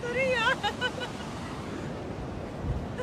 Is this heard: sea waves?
yes